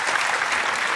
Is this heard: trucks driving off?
no